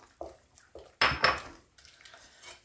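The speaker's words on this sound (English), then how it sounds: "I cracked one of the eggs in here and just whipped it up a little bit, and I'm going to add that while I'm stirring" A spoon stirs beaten egg into warm cream puff dough in a pot, giving a few short, close clinks and scrapes against the pot, one louder knock-and-scrape burst midway, with no talk.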